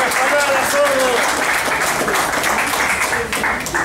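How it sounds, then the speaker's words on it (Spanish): Applause from a crowd at a tribute event, a steady dense patter of clapping mixed with shouting voices throughout. "¡Un aplauso, presidente! ¡Bien hablado, presidente!"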